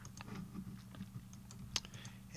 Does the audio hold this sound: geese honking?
no